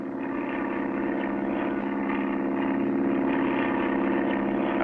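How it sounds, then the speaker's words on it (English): A propeller plane's engine drones steadily in flight in an old matinee film, a continuous loud hum with no pauses or voices. "Clutch and Company board their plane and begin their trip"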